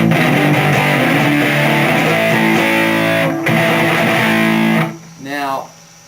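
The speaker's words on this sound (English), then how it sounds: "distortion is what heavy metal kind of guitar sounds are" Heavy-metal style distorted electric guitar playing sustained, thick chords at high volume, with a short break partway and then a sliding, wavering tone before it cuts off, no voice heard.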